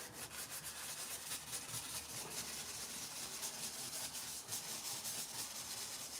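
Brush rubbing soft wax along a painted line, a faint, steady, close scrubbing hiss made of rapid repeated strokes that continues throughout with no talk.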